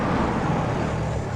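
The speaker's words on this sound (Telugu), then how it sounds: "ఏంటి ట్రాఫిక్ జామ్?" Dense road traffic in a jam gives a continuous broadband rumble of engines and roadway noise, steady and fairly loud for a brief moment.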